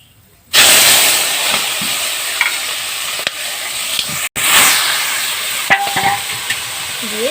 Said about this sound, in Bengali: আমি এখন পালং শাকটা তেলের উপরে দিয়ে দেবো